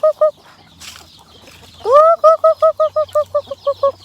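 Chickens being called and fed in a rural Thai setting give a quick run of loud, close, nasal clucking calls, one long rising call, then a steady rhythmic series of short bursts.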